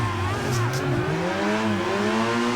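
Car drifting with the handbrake in the racing game Assetto Corsa at Lime Rock, its engine droning and revving in steady rising and falling tones with a continuous tire-scrub hiss, loud and close throughout.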